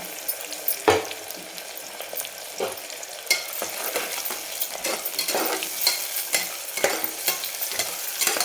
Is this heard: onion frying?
yes